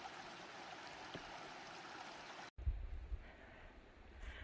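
Stream water rushes steadily at a small river crossing on the Upper Priest River Trail, a close and continuous wash that cuts off midway and gives way to low rumbling handling noise.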